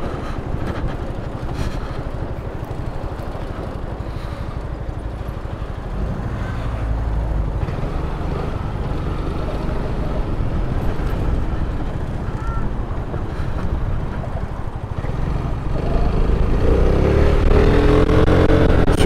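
A Piaggio MP3 400ie three-wheeled scooter with a 400 cc engine, heard while riding: a steady engine drone mixed with wind rush on the microphone, with the engine growing louder near the end as it accelerates.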